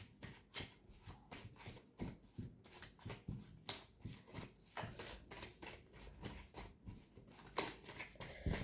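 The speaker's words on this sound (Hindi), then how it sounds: "इस शफलिंग में जितने कार्ड्स आ जाएंगे बस उतने ही लूँगी" Tarot cards shuffled by hand in a steady run of quick papery riffles and slaps, close and fairly quiet, with no talking.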